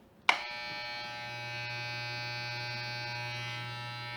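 A Wahl Home Cut Basic electric hair clipper switches on with a click and runs with a steady, moderately quiet buzzing hum, close by and uninterrupted.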